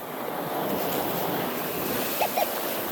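Ocean waves washing onto a sandy beach, a steady broad surf roar with some wind, continuous and fairly close, with two brief faint clicks near the end.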